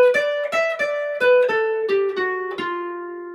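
A guitar plays a single-note blues lick in G in a jazz style, with about ten crisp plucked notes stepping gradually downward and a final note left ringing, heard alone and clearly.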